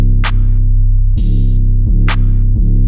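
Trap beat with a hi-hat pattern thinned by dropping every ninth step: a few bright hat bursts, one longer open hat, ride over a steady, loud low bass drone with no talking.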